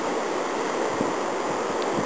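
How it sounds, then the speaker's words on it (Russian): A forest waterfall at Nelson Lakes gives a steady, dense rush of falling water that stays constant and fairly loud throughout, with no talk over it. "Вот еще один водопад."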